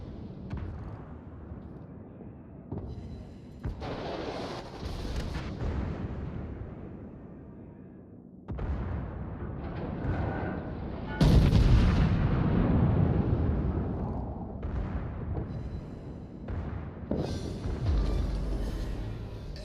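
Secondary guns on a warship in World of Warships fire in repeated booming bursts, loud and uneven, with heavy blasts and rumbling explosions overlapping through the battle.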